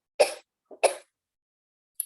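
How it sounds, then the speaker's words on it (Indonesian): A person gives two short, close coughs about half a second apart, with a small catch of breath between them and a faint sound after. "saya sedang batuk."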